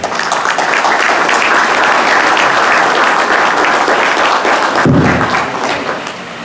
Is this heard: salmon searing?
no